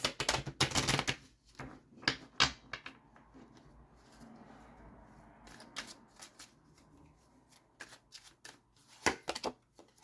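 Oracle cards are shuffled in several bursts of crisp riffling and snapping, close and clear, separated by quieter handling pauses.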